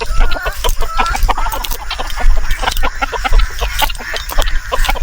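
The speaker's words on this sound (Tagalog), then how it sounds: "Una nating pinapakain, syempre yung ating mga heritage chicken na nangingitlog." Heritage laying hens on a farm cluck and squawk at feeding time in a busy, close chorus of overlapping calls, loud and continuous with no talking.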